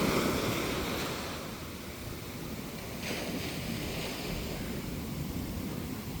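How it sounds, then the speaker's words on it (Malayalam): Rough sea waves crash on a Kerala shore with small fishing boats nearby, a continuous broad roar of surf with a swell near the start and again around the middle, mixed with wind noise on the microphone. "കടൽ ഓരോ തിരമാല അടിക്കും തോറും ഉടനെ അടുത്ത തിരമാലെങ്കിലും അങ്ങ് വന്നുകൊണ്ടിരിക്കണം"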